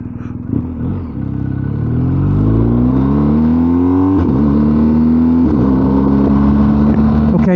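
A BMW R1250GS motorcycle pulls away from a stop sign, its engine loud and close, revving up through rising pitch with a couple of gear changes as it accelerates steadily.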